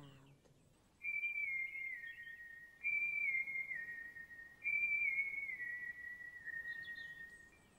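A whistled tune in an Icelandic-dubbed Teletubbies episode plays as three sustained, gently descending phrases, each slightly wavering, soft against a quiet background with no talking.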